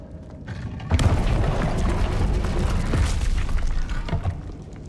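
A Confringo fire spell bursts in Hogwarts Legacy with a sudden loud boom, followed by a rumbling, crackling explosion tail and scattered debris pops that fade over a few seconds.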